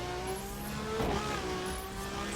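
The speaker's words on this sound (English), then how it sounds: "Ferrari on wet roads probably wasn't the best idea" A Ferrari driving on wet roads in The Crew, a steady engine drone with a rising whine and brief surge of revs near the middle, close and moderately loud, with no voices.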